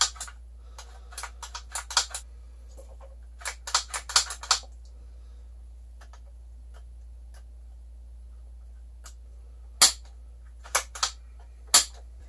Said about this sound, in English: Just kind of let that oil work its way in by moving those parts back and forth.